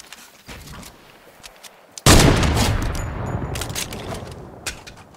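Single loud sniper rifle shot in the video game Fortnite, a sudden sharp blast followed by a rumbling echo that slowly fades, after a quieter stretch with light clicks.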